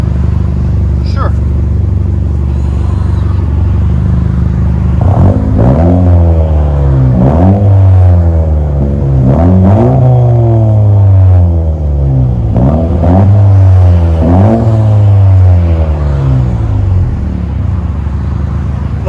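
A 2017 Honda Civic Si with a MAP cat-back dual exhaust revs repeatedly from a steady idle, each blip rising sharply and falling back in about five loud, close, rhythmic pulls.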